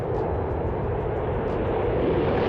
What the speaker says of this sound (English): you can look at how an F-15 takes off